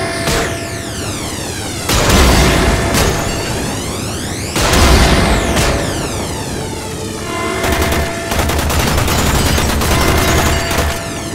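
The reactor core in the Warframe game explodes amid heavy combat, with repeated loud booming blasts and rapid gunfire bursts layered over a dense, sweeping electronic whine that rises and falls throughout.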